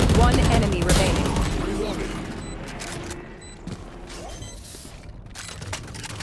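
Rapid bursts of gunfire from a gun in the Valorant video game crackle at close range, loudest at the start and thinning into scattered shots and mechanical clicks, with voices underneath.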